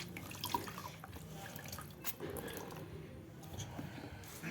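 Water squeezed from a towel or cloth by hand during a L'Oréal hair spa treatment, giving soft wet squishing and scattered drips, quiet and close with no talk.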